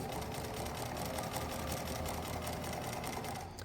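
A sewing machine stitches fabric for a backpack in a fast, steady mechanical whir that runs nonstop and close to the microphone.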